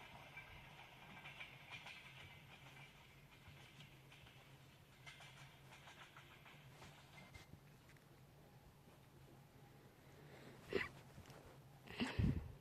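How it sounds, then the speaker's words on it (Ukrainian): An EP2D electric commuter train arrives at a station near Kyiv, heard faintly with a low steady rumble and hiss, then louder clanks and rattles toward the end. "Наша електричка приїжджає тут."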